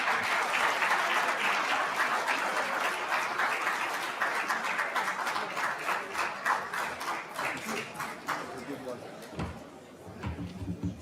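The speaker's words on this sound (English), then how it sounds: "Warm round of applause." A warm round of applause greets a former Vice President at a formal lecture, dense clapping that gradually thins into scattered claps before a voice begins speaking near the end.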